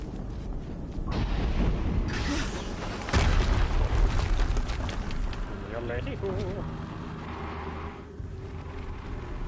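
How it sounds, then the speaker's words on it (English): Game-world explosions in Horizon Zero Dawn around an ancient vessel: a rumbling blast swells near the two-second mark, a sharper, louder boom lands around three seconds, then heavy low rumble lingers and fades while a voice speaks over it. "Another explosion."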